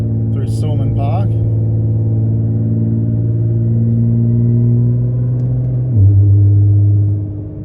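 A Nissan GTR engine drones steadily at speed from inside the car, then shifts up a gear with a short dip and rise in the engine note, loud and close, while someone talks briefly.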